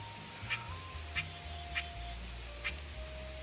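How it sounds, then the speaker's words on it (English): A small agitated bird near its nest beside a creek gives short, sharp calls, about four of them spaced around half a second apart, heard over steady flowing water. "Got a little bit of an upset bird here."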